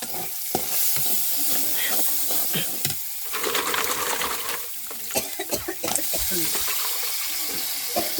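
Dried fish cooking in a pan, sizzling and frying steadily up close with stirring scrapes and clatter throughout, and a few louder knocks from the pan along the way.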